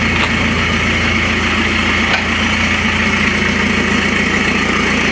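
A Citroën C5 engine idles with its full exhaust system removed, giving a loud, steady, raw rumble with constant mechanical vibration and no break across the stretch.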